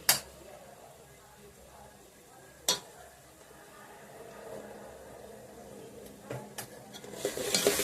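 Spices for pav bhaji fry in a pan with a soft, low sizzle, marked by a few sharp clanks of a spoon against the pan and stirring scrapes that build toward the end.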